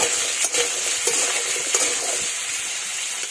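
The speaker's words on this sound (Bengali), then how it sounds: "তেল গরম হয়ে গেছে, এবার এর মধ্যে দিয়ে দিচ্ছি ধুয়ে রাখা মূলো।" Washed radish sizzles steadily in hot oil while being stirred, with scattered scraping clicks from the utensil over a continuous frying hiss.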